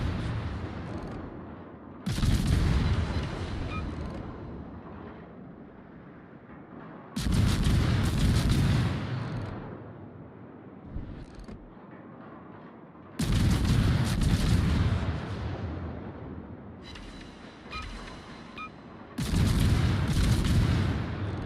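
Warship double-barreled gun turrets in a naval video game fire four heavy, booming salvos at roughly five-second intervals, each blast rumbling loudly and then fading into a low hum of background noise.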